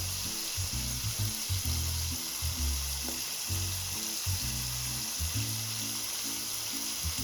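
Steak frying in a pan, a close, steady sizzle and crackle running continuously with soft bumps and clatter of movement underneath, no voices.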